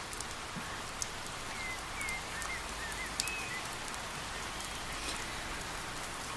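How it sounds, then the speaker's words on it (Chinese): Rain falls steadily outdoors near a traditional courtyard residence, a dense continuous patter with occasional faint bird chirps and a few louder drips. "下雨了，咱们回昭辉院避一避吧。"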